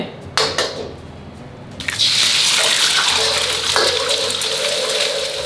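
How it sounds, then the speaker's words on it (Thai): Eggs drop into hot vegetable oil in a pan over medium heat, and a bright sizzle erupts. It settles into a steady, loud frying hiss after a quieter opening with a few clinks. "รอกระทะร้อนใส่ไข่ไก่ลงไปผัดให้สุกเล็กน้อย"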